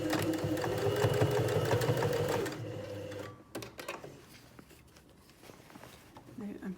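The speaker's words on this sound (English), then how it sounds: "I'm going to use my edge stitch guide on my foot and keep manipulating the fabric as I go to keep it even" Home sewing machine running a steady stitching burst along a fabric seam with an edge stitch guide on the presser foot, then stopping for fabric adjustments with brief handling noises and short restarts.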